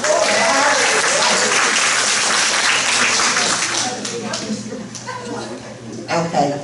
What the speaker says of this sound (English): Now, give them some applause for being the cutest fire people.